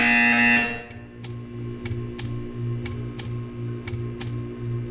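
In the Portal 2 video game, a loud harsh buzzer blares for about half a second, followed by a series of evenly spaced sharp ticks over a low electronic hum.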